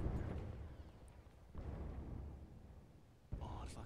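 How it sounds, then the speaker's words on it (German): Deep, booming explosions in the wartime shooter Battlefield 1 rumble at low volume, with three distinct blasts spaced a second or two apart amid a continuous battlefield roar. "ich sehe die ganze Zeit nur Explosionen"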